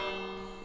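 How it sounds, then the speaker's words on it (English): A school bell in the Minecraft video game rings as a single sustained, resonant metallic tone, loud and alone without talk. "we've even got a school bell"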